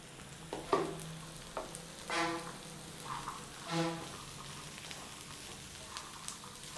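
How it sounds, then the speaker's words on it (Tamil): Carrots and beans sautéing in a pan as a soft, faint hiss with a few light stirring clicks and brief tonal chirps, fairly quiet overall. "கேரட் பீன்ஸு சேர்த்ததுக்கப்புறம் 3 நிமிஷம் வதக்குங்க"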